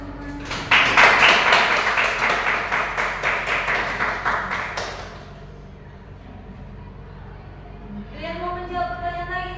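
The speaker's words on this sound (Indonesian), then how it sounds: "tepuk tangan teman-teman" Classroom clapping during a microteaching lesson, a burst of quick rhythmic hand claps from students for several seconds, then stopping, with a teacher's and children's voices afterward.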